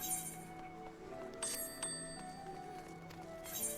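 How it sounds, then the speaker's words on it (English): A summoning bell in Final Fantasy XIV chimes in a few bright, brief rings over soft game background music, with no voices. "Summoning bell."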